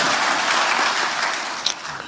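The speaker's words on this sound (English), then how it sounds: "Can we clap for them?" A congregation at a church general assembly claps in a full, steady round of applause that tapers off toward the end, close and loud.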